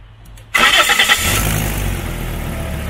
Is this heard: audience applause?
no